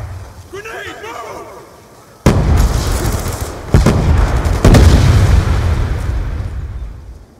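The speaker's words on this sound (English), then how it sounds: "Grenade, no!" Grenade explosion in Black Ops 2 multiplayer: a sharp blast cuts in after game voice chatter, followed by further bangs and gunfire, loud and close.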